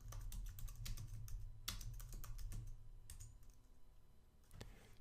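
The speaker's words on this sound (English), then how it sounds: "To do that, you type service SSH status." Steady, close keyboard typing of a Linux terminal command to check the SSH service status, a dense run of quick keystrokes with a few louder presses, alone without speech.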